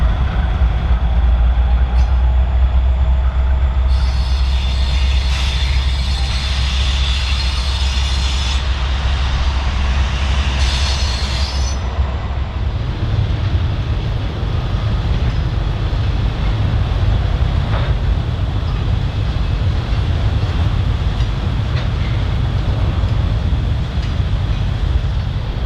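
CN freight train L552 leaves the main line and turns into the Verso Paper Mill near Quinnesec, a loud continuous low rumble of locomotive and rolling cars with high squeal bursts early on.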